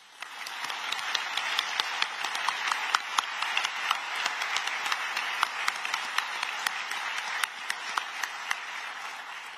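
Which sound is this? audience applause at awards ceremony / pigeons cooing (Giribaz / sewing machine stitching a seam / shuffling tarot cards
audience applause at awards ceremony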